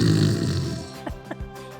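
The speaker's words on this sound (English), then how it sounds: "Our guest was snoring so loudly that it was traveling up the vent" Heavy, rumbling snoring fills the start, loud and close, then trails off into a few shorter snorting breaths.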